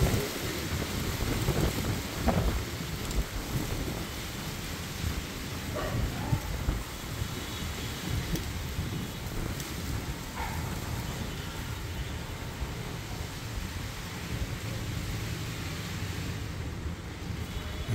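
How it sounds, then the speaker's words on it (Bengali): Heavy storm rain pours onto an urban rooftop in dense, steady noise, with gusting wind buffeting the microphone and a faint low rumble, no voices. "ধীরে ধীরে অনেক জোরে বৃষ্টি নামা শুরু করেছে।"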